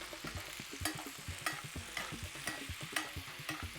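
Steak sizzling quietly in a tilted pan while garlic butter is spooned over it in a steady rhythm, each basting stroke adding a soft splash and clink over the constant low fry.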